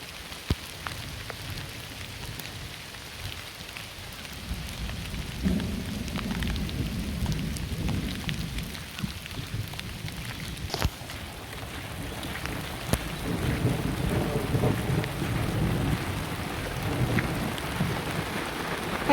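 Steady rain pours on a creek campground during the Australian summer wet season, a dense hiss with low rumbling thunder swelling in the background and a sharp crack partway through.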